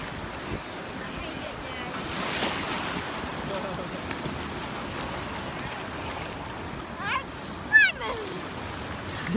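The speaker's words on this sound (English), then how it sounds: "I guess now we're playing the game of sitting there and waiting for the waves to hit us." Ocean waves and wind at Ventura State Beach in California, a steady washing roar with buffeting wind noise on the microphone and brief voices near the end.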